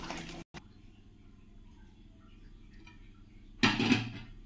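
Pitha filling is stirred and scooped into a bowl, with a short burst of utensil scraping at the start, quiet kitchen noise, then a louder clattering scrape of metal on the pan near the end.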